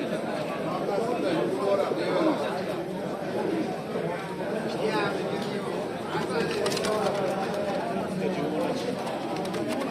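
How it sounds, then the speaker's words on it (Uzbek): Black-headed pigeons coo softly amid a steady murmur of birds at a pigeon sale, with people talking nearby throughout. "Chiroyli kaptar ekan mana mash."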